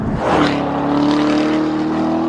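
Chevrolet Corvette Z06's supercharged 650-horsepower V8 pulls hard, a loud, steady engine drone with a strong rising harmonic that holds close and sustained throughout.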